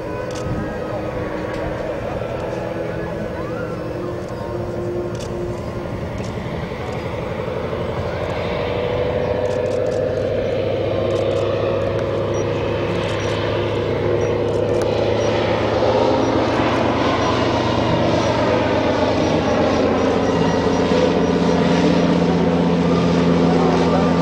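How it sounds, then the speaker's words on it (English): An Antonov An-2 biplane slowing down on its approach to land at an airshow, its radial engine droning steadily and growing louder and nearer, with a commentator talking over it throughout. "you can see that well demonstrated now as Chris brings the aircraft in from the right hand side"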